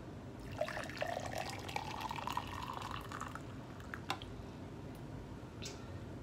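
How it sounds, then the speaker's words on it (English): Raspberry lemonade with pulp is poured into a cup, giving a close, quiet liquid fill whose pitch rises as the cup fills, followed by a few drips and small splashes. "let's go ahead and do a pour"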